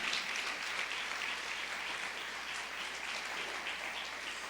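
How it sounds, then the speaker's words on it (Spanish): A church congregation clapping during worship, a dense, steady wash of applause from many hands that holds evenly throughout, with no speech on top. "dale una ofrenda de palmas al rey"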